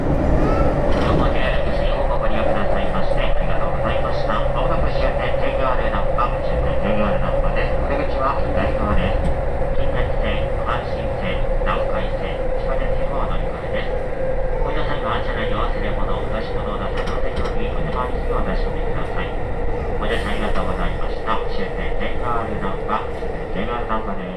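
Train running underground between Osaka Namba and JR Namba stations, a steady loud rumble and hum from inside the carriage throughout, with faint rattles and a squeal near the end.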